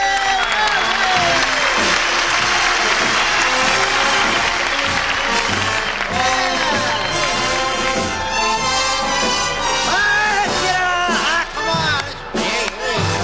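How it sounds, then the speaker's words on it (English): Warm studio audience applause on The Midnight Special in 1975, a loud, sustained wash of clapping with cheering and voices mixed in, fading slightly near the end. "let's hear a warm round of applause for the wonderful, and I know this to be true, a warm human being, Miss Rosebud LaBouche."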